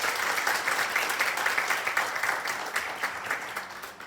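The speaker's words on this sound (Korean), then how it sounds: "힘찬 응원의 박수 부탁드리겠습니다" A crowd applauds steadily for about four seconds at a youth safety net conference in Daejeon, a dense, even patter of many hands clapping that tapers slightly at the end.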